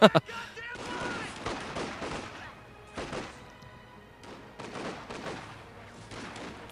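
Rifle fire from USF infantry in a Company of Heroes 2 tournament match, heard as repeated bursts of gunshots and crashing impacts over a busy battle bed, with a commentator's voice faintly underneath.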